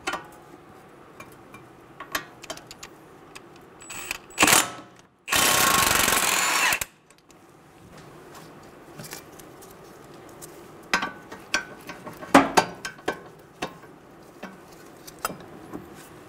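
Power tool or socket wrench spinning a hub nut loose on a 2011-2014 Hyundai Sonata front hub, a loud continuous burst of about a second and a half amid scattered clicks and clanks of nearby work.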